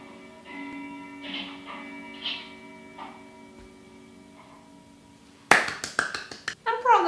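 A scattered round of clapping from a small group of onlookers breaks out in a Twilight Zone television drama scene, sharp, uneven claps arriving suddenly after a quiet stretch of low tones and murmured talk.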